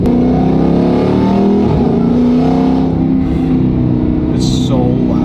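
A Dodge Hellcat with a Valvetronic Designs valved sport exhaust roars loudly under acceleration, the pitch rising and dropping through gear shifts with short crackling braps, while a voice speaks faintly beneath the engine.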